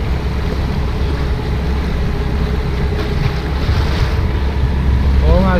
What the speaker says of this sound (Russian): Волна сильная